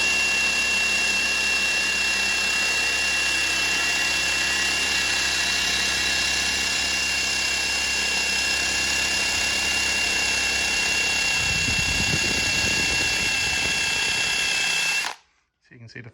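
Power drill spinning a wire brush against a rusty raw FMF two-stroke exhaust pipe from a Yamaha YZ250, a loud constant whine that roughens near the end before cutting off abruptly.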